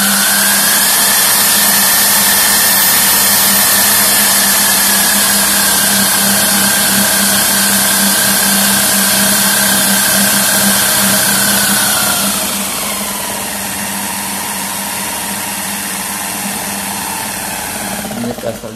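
A mini dynamo generator running at reduced RPM to charge a 12-volt battery gives a loud, steady motor whine with a constant hum, and the pitch drops partway through as it slows.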